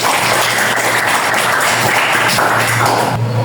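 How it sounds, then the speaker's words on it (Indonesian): Classroom applause for a student named Sulis, a loud, continuous wash of clapping over a steady low hum, with no break. "tepuk tangan buat Sulis"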